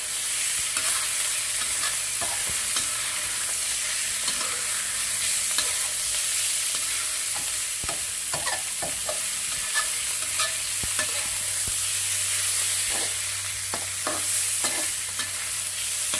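Pork belly stir-fried in a hot pan with chopped garlic and bird's eye chilies, rendering its fat: a steady, close sizzle runs throughout, broken by frequent scraping clicks of the spatula, with no talking.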